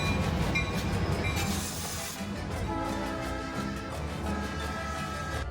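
Chepe Express passenger train in Mexico's Copper Canyon, a steady rumbling of railcars with a hissing burst near the start, continuous and fairly loud throughout.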